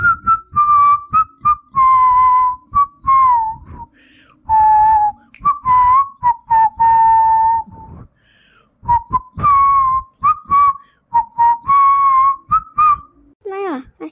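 A person whistles a bright tune in a series of short, repeated phrases with brief pauses, fairly loud and close, with no talking.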